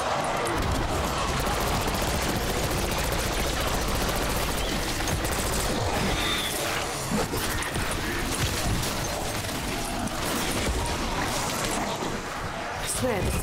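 Gunfire from an enemy boss in Call of Duty Black Ops 6 Zombies rattles in dense, continuous bursts throughout, loud and up close, with game noise layered over it.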